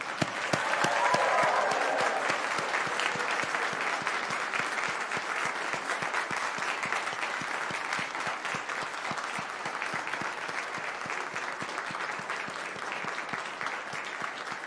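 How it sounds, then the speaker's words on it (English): Sustained applause from a large audience of graduates at an engineering convocation ceremony fills the hall steadily, dense and even throughout, with no voices standing out. "So it's now your turn to return the applause and make some noise in honor of their support"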